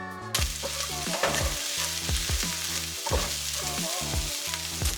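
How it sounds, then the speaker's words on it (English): Onions sizzle in avocado oil in a pan on a high stovetop burner, a loud continuous crackling hiss with repeated stirring clatters and a steady underlying hum, no talking. "Turn this on high, use some avocado oil. I'm gonna toss in some of these onions first."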